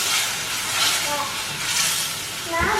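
Ground tomato made from three tomatoes pours into sizzling cumin in a pan, raising a loud continuous hiss and sputter that swells and eases in waves, close up with a faint thud near the end.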